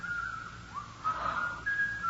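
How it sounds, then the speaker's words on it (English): An eerie, wavering whistle drifts up and down in pitch in an old radio mystery drama, faint and thin over a soft background hiss. "There's that whistling again."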